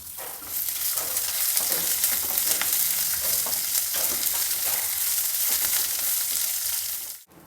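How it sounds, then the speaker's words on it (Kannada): Finely chopped onion frying with sesame seeds in a pan while the seeds roast, a loud, steady dense sizzle with faint stirring scrapes, continuing unbroken until it cuts off at the end. "ಈಗ ಈರುಳ್ಳಿನ ಒಂದು ದೊಡ್ಡ ಈರುಳ್ಳಿನ ಸಣ್ಣದಾಗಿ ಕಟ್ ಮಾಡಿ ಇಟ್ಕೊಂಡಿದ್ದೆ ಅದನ್ನು ಹಾಕಿದೆ"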